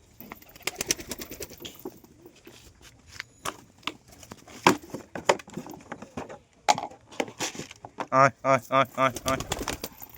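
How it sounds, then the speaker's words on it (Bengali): Pigeons, including a Punjabi pigeon, coo nearby in a series of soft, rhythmic calls while feeding, with scattered knocks and rustling and some talking in between. "পাঞ্জাবি মাদিটা একদম কিন্তু পুরো ফুল অ্যাক্টিভ পায়রা"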